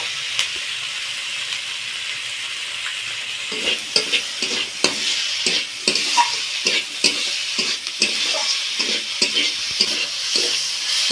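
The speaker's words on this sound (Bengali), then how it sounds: "পেঁয়াজটা একটু ব্রাউন কালার হয়ে এসেছে, এবার এর মধ্যে দিয়ে দিচ্ছি টমেটো কুচি আর লঙ্কা কুচি।" Chopped tomato and green chili frying in a pan with browned onions, a steady close sizzle broken by repeated spatula scrapes and stirring clatter from the middle onward.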